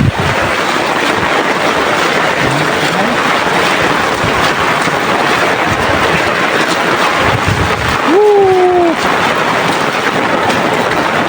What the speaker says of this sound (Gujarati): હજુ પણ વરસાદ ચાલુ જ છે.